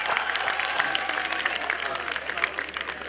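Audience applause rings out at a university convocation as a gold medal is presented, a steady dense clapping from a large crowd, fairly loud and sustained throughout without a break.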